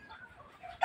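A rooster on a farm raised for breeding starts to crow, a brief call that bursts in loudly at the very end after a short stretch of soft background sound.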